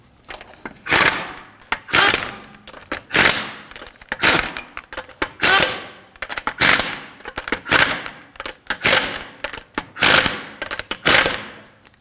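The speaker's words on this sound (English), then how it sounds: "Now, snug down the lug nuts." Lug nuts being snugged down on a 2013-2015 Subaru XV Crosstrek wheel, heard as loud, close bursts of rapid ratcheting impact-style rattling, about a dozen short bursts separated by brief pauses.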